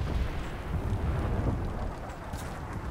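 Incoming artillery explosions in the video game Operation Flashpoint Red River roll together into one continuous, heavy low rumble that stays loud for three seconds and then eases slightly.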